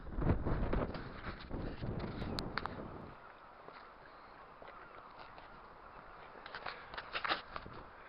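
Strong coastal wind at Catterline Bay, Scotland, buffets the microphone in loud rumbling gusts, easing after a few seconds into a steadier, softer whoosh before gusting up again near the end.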